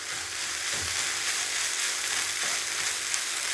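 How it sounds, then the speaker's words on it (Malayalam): Drumstick leaves and dal thoran sautéing in a pan over high heat, a steady, bright frying sizzle with faint stirring scrapes, close and continuous with no talking. "ഇനി നമുക്കത് തീ കൂട്ടി തന്നെ വെച്ച് നല്ലതുപോലെ വഴറ്റിയെടുക്കാം"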